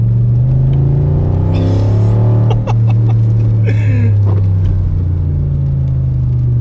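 An Audi S4 B7 estate with a reworked six-speed gearbox pulling away hard from inside the cabin, a loud, deep engine drone rising in pitch through the gears, with a brief shift dip.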